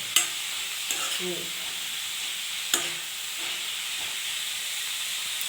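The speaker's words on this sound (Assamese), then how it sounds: "অলপ ভাজা কৰিব লাগিব ভালকৈ" Cabbage and peas sizzle steadily in a pan, with a few sharp scrapes from stirring. The sound is close and there is no talking.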